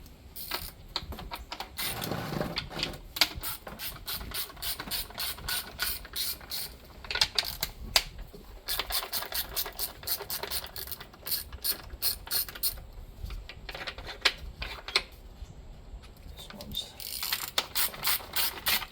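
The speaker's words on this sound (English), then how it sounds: "Then you're going to have 1, 2, 3, 4, 5, 6 intake bolts to pull. 8mm." Ratchet wrench clicks rapidly while backing out the 8mm intake manifold bolts on a Jeep 3.6 V6 engine, with bursts of close, dense ratcheting separated by short pauses and no talking.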